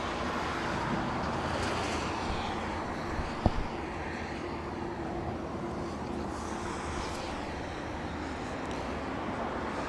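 Boeing 747 jet engines rumble at Los Angeles International Airport, a broad, steady roar that holds at a moderate level for the whole stretch, with one brief sharp click partway through.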